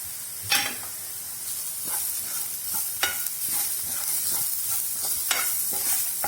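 Masala and asafoetida sauté in a hot pan for a Kerala-style tomato fry, giving a constant sizzling hiss broken by occasional sharp clicks of a spoon stirring and tapping the pan.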